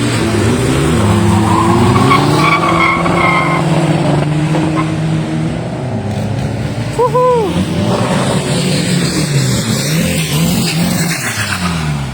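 A car launches on a 200 m drag strip at a race event, its engine loud and droning with rising and falling revs and tire noise, steady throughout.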